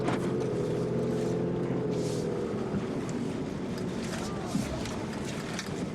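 A 2017 Ford Super Duty diesel truck cruises with a steady, droning engine rumble and road noise heard from inside the cab, holding a fairly even level throughout without obvious revving.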